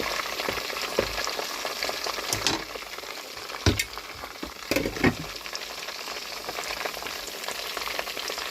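Chicken pieces frying in a pan, a steady close sizzle of hot oil with occasional louder pops and crackles throughout, no voices.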